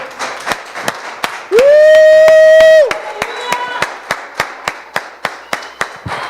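A church congregation claps in a steady rhythmic beat while a loud sustained voice cries out over it, then the rhythmic clapping continues.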